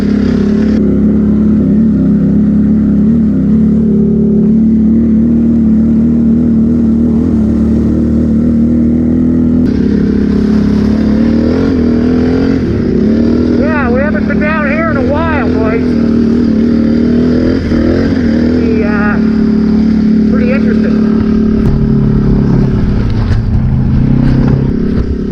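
Can-Am 1000 XMR ATV riding a lumpy, hard-rutted trail in the Everglades, a loud steady engine drone that rises and falls with throttle changes, close up, with a voice talking over it.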